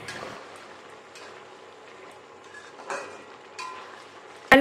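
A simmering pan of potatoes and ridge gourd in poppy-seed gravy being stirred, with a soft bubbling hiss, faint scraping of the spoon and a sharp clink at the very end.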